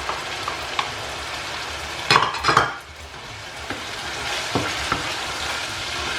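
Ghana-style red snapper stew with onion, epice and Scotch bonnet, stirred in a hot pot; a constant sizzle sits under clattering spoon-and-pot scrapes, with a louder burst of stirring midway.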